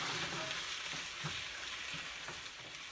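Diced canned tomatoes simmer and sizzle in a pan for a spicy shrimp sauce, a soft, steady frying hiss with a few faint stirring scrapes, no voices.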